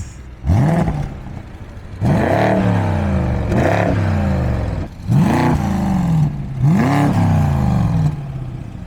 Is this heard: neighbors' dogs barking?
no